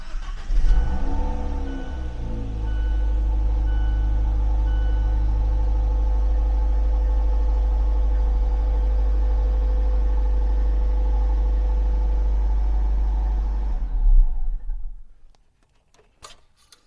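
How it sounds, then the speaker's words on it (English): A Fiat 124 Abarth Spider engine cranks and catches, then settles into a steady, loud idle for several seconds before shutting off near the end. "So now we're gonna start the engine"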